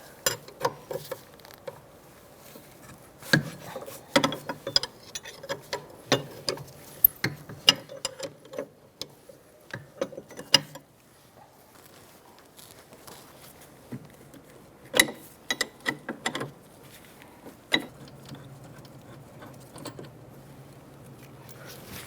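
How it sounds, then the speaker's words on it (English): A 19mm wrench ratchets out the rear caliper bracket bolts on a 2007-2012 Nissan Altima, giving close, crisp bursts of clicking in uneven runs separated by brief pauses. "I'm going to take the caliper bolt brackets out with a 19mm wrench."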